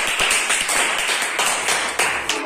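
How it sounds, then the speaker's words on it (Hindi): A child clapping hands indoors, a quick run of about a dozen sharp, close claps in an uneven rhythm over roughly two seconds. "गुड, ताली बजाओ।"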